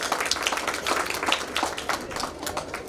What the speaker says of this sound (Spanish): pues un aplauso a nuestros ganadores, gracias a la maestra Leti por esto.